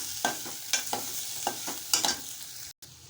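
A ladle stirs a boiled potato filling for bread patties in a pan while turmeric goes in, making soft periodic scrapes and taps over a faint sizzle, close up and with no talk.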